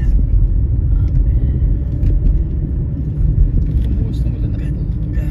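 Road traffic in Brampton, Ontario, heard from inside a moving car: a loud, steady low rumble of engine and tyres throughout, with people talking over it.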